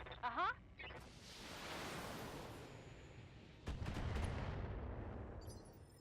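An LRM-5 missile launcher in BattleTech fires a quick burst at the start, then a long whooshing rush of launched missiles and a second heavy roar, with faint speech-like bits near the start.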